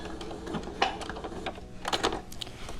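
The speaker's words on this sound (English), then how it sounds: "Place the top piece over, stitch over it." A sewing machine stitches a fabric face mask, giving a faint, quick run of light mechanical clicks and taps over a quiet room hum.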